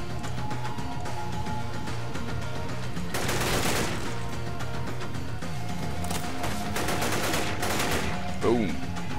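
Rapid gunfire from the game Men of War Vietnam, with sustained bursts of automatic shots over a constant background of battle noise.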